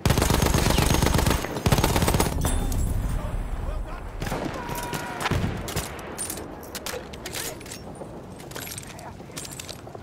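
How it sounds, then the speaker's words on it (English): Machine gun fire in Battlefield 1 comes as a loud, dense stream of rapid shots, heaviest over the first seconds, then continuing in slightly softer, uneven bursts mixed with other battlefield clatter. "Look out! Machine gun!"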